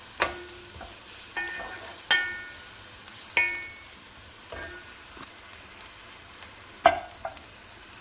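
Butter and vegetable oil sizzle in a home pan for carrot rice pilaf, quiet and steady, broken by several sharp clinks and scrapes of stirring that spread out through the clip.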